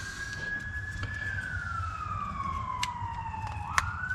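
Emergency vehicle siren passing at a distance, a wailing tone sliding slowly down in pitch over steady traffic rumble, fairly faint, with a few sharp clicks near the end.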